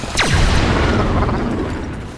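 A laser-gun effect made by striking a taut wire: a single sharp zap whose pitch plunges quickly from high to low, then a short ringing decay.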